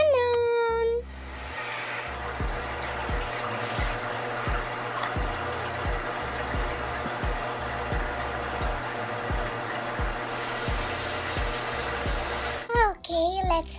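A toy washing machine runs with a steady motor hum and rhythmic sloshing pulses that repeat evenly, loud and close, with a voice at the start and end.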